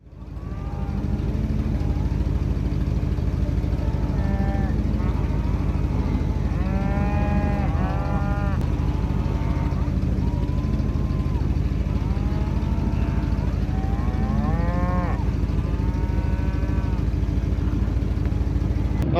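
Cattle being moved to a new strip of winter feed on a wet morning moo repeatedly, several drawn-out calls near and far over a steady low rumble of wind or machinery.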